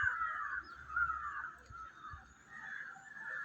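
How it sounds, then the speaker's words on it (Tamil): Several crows cawing nearby, a chain of harsh, drawn-out calls overlapping and repeating at moderate loudness, with faint low thumps underneath. "ஹாய் காக்கா, ஹாய். ஏண்டா கத்துறீங்க?"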